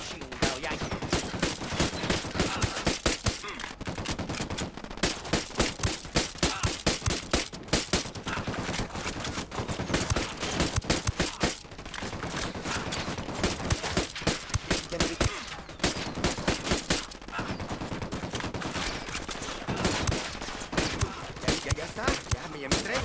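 Relentless gunfire in Ghost Recon Wildlands, including sniper fire, crackles densely throughout, a nonstop barrage of sharp shots with voices talking beneath it.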